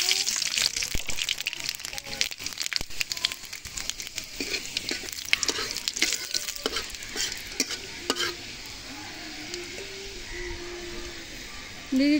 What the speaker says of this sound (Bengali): দুটো তেজপাতা, দিয়ে দিচ্ছি পাঁচফোড়ন,